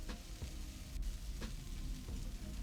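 Continuous sizzling of beef stir-frying in a hot pan with minced garlic, with a few scraping stirs of a utensil, steady and close.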